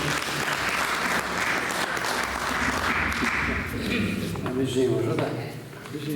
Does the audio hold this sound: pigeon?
no